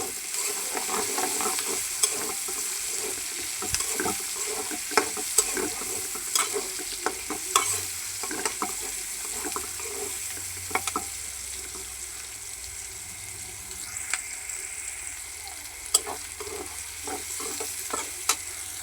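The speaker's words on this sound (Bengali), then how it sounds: "এখন আমি পেঁয়াজগুলি বাজিয়ে নিচ্ছি" Onions frying in a pan, a constant close sizzle with frequent scraping stirs of a spatula clicking against the metal in an uneven rhythm.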